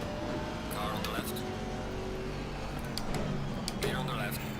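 Race car engine drone in Assetto Corsa Competizione at Brands Hatch, a multiclass GT3/GT4 field with another car alongside on the left, steady and continuous under close, quiet talk.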